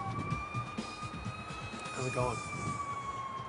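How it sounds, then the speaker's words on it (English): A siren wails on a city street, its rising and falling tone steady throughout over traffic noise, while people talk nearby. "Listen to the siren."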